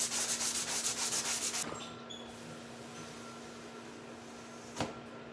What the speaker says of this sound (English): So first of all, we are sanding where we have marked